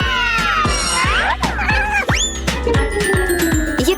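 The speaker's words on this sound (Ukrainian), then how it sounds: "Кошеня" Kitten meowing repeatedly in a kitchen, a rapid series of high, sliding cries over thumping, busy background noise.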